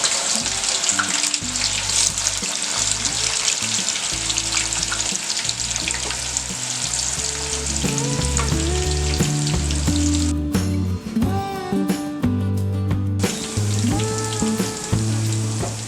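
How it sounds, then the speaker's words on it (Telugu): Bitter gourd pieces fry in hot oil in a kadai, a loud continuous sizzle running throughout with faint stirring clatter mixed in; nobody speaks. "కడాయి పెట్టుకొని ఆయిల్ హీట్ చేసుకొని కాకరకాయ ముక్కల్ని బ్రౌన్ కలర్ వచ్చేంత వరకు వేయించుకోవాలి"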